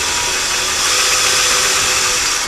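A power drill bores into a wooden wall beam while a towel bar is installed, giving a steady, even, close-up whirring grind that runs without pause for a couple of seconds.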